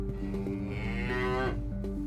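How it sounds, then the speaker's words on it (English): A loose cow on roads near the North Kent coast gives a single loud, close moo that holds steady and then rises in pitch before trailing off. "paramedic Dan and Special Sergeant James have located the cow causing havoc around Kent's roads."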